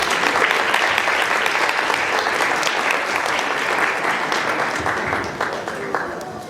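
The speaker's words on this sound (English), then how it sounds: "Please give a round of applause for Auntie Shahina Siddiqui." Warm, sustained applause from diners at a Muslim student association annual dinner, many hands clapping steadily and loudly before easing slightly toward the end.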